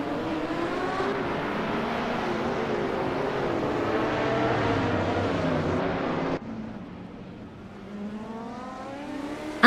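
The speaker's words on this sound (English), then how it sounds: "Iconic Odd is driving a Ferrari 330 P4 from 1967, which is a classic and aggressive-looking machine" A 1967 Ferrari 330 P4 race car in a racing video game, its engine a steady droning roar with shifting pitch that drops suddenly partway through and then settles into a lower hum.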